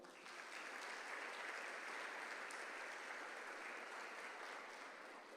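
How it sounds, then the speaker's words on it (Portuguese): A church congregation applauds together in sustained, steady clapping that fills the space evenly for several seconds, dense and uninterrupted, with no voices standing out above it. "Você pode aplaudir o Senhor."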